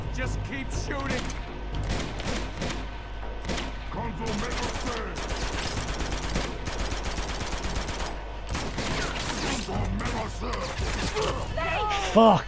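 Sustained automatic gunfire in a firefight from Uncharted 2: Among Thieves, rapid bursts layered over game music and effects, with someone talking over the din throughout.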